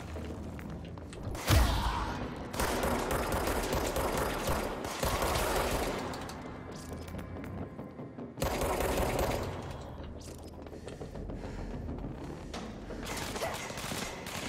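Dense bursts of rapid gunfire in the video game Control, loud rattling volleys that start and stop abruptly several times over the stretch, with game action noise between the bursts.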